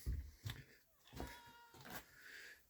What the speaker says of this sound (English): say hello to the cat.